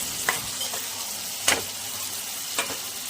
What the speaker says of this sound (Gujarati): લસણની પેસ્ટ અને ડુંગળી આટલું નાખીને બરાબર હલાવી નાખવાનું છે અને બરાબર થોડી ડુંગળી ચેતાવા દેવાની છે